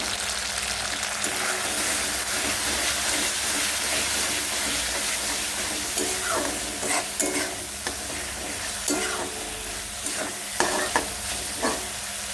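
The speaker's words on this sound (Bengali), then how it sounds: "এখন আমি পরিমাণ মতন নুন দেব আর দেব হলুদ দিয়ে মশলাটাকে ভালো করে কষিয়ে নেব" Masala seasoned with salt and turmeric being stir-fried in a pan, a continuous loud sizzle broken by rhythmic scraping and clattering of the spatula, with no voices.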